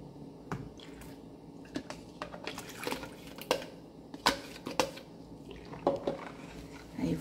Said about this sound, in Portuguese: Vou mexer bem aqui o detergente que nós colocamos aqui com sabão em pó.